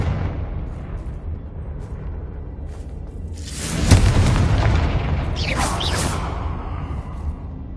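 A Confringo blasting spell in the video game Hogwarts Legacy sets off a deep booming explosion with a rushing whoosh. The blast swells, then lingers as a roaring rumble over a constant background din.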